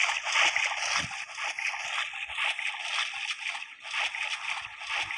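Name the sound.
character splashing out of water in a battle royale video game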